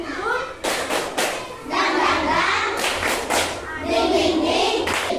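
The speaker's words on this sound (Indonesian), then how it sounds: "Tepuk semangat" A group, apparently children in a classroom, claps out a rhythmic spirit-clap pattern, loud bursts of claps and thumps in short sets with a few spoken words and chanting mixed in.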